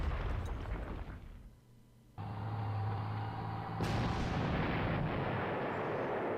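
Anti-aircraft cannon fire in the Panzer Corps strategy game, a loud sustained burst of booming, rumbling blasts that drops away briefly, then surges back with a brighter, harsher roar that continues to the end.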